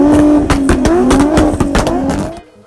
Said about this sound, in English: Loud exhaust on cars that go absolutely nowhere.